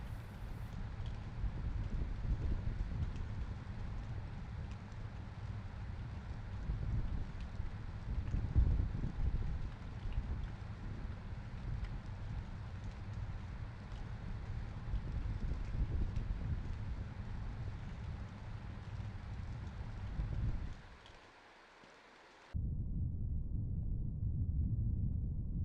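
Wind and rain roar as a continuous, dense wash that stays steady for a long stretch, drops briefly to a muffled quiet near the end, then resumes at full strength. No voices are heard.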